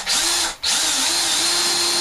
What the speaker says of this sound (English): That's why you notice I always pre-drill in wood, or anything for that matter.